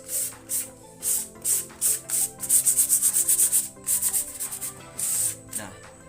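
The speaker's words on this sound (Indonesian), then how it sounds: "Kalau kita amplas," Repeated rhythmic scratching strokes of sandpaper rubbing a wooden surface during a photo transfer to wood, quick back-and-forth passes, close and fairly loud.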